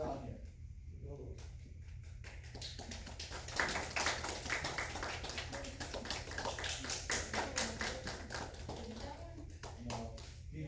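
Children in a catechism classroom clap in runs of quick, irregular taps to guide a seeker in a hidden-object game, bursts speeding up and thinning out over a low steady hum, with some voices mixed in.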